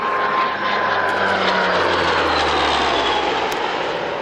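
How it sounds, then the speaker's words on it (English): An ATR airliner from Titan flies past at the North Weald airshow, its propeller engines giving a steady, broad drone that holds evenly at moderate distance, with no voices over it. "It's an airliner, I think."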